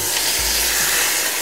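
Pieces of beef eye round browning in a pan, a loud continuous sizzle and crackle of frying meat, close and steady throughout.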